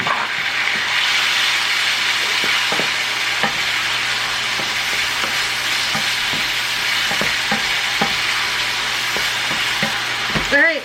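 Korean beef with brown sugar, soy sauce and sesame oil sizzling in a pan, a steady loud fry hiss with repeated scraping stirs throughout, close and mostly without talk.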